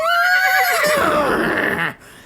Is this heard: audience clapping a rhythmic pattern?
no